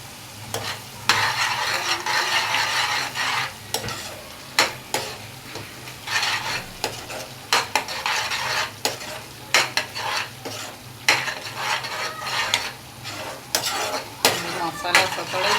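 Masala spices, Kashmiri chilli, coriander-cumin and pav bhaji masala, sauté in a pan for bhaji while a spoon stirs and scrapes in quick repeated strokes, constant close sizzling under sharp metallic clicks and knocks throughout.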